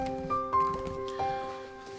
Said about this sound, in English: So you hear that little beeping, that's the fire alarm.